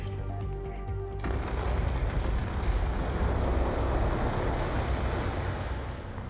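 Floodwater rushes in Call of Duty: Black Ops 2, a dense, roaring wash of water that swells up after a brief tonal lead-in and holds loud and steady, with no voices.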